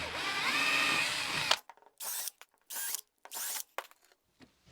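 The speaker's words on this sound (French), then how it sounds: "Je vais donc percer en 12 parce que c'est une paroi creuse" A power drill bores a 12 mm hole in a hollow wall with a sustained loud whine, followed by several short bursts of drilling separated by pauses.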